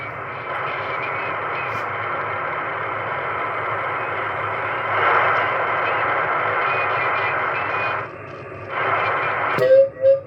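A Heathkit HW-101 ham radio receiver hisses with a steady, oddly filtered buzzing tone that drops out briefly and ends in a few crackling bursts, no clear speech.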